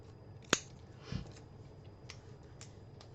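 Scissors make a single sharp snip while trimming a little more off card stock for a handmade card, followed by a softer rustle and a few faint clicks in a quiet room.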